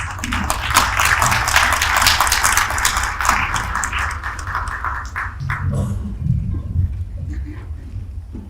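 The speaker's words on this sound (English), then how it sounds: "please give her a round of applause as she comes to speak to us" Applause from an audience at a women political leaders event rises in dense, continuous clapping for several seconds, then thins out, with a murmur of voices underneath toward the end.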